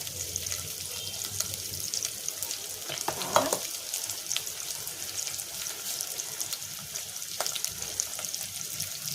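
Raw onions frying in a pan for a Bengali fish-roe fritter and potato-pointed gourd curry, a steady close sizzle with occasional stirring scrapes and one louder clatter early on, no talking.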